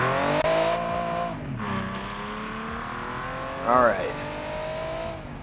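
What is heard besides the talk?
budget front-wheel-drive car driving on racetrack, BeamNG video game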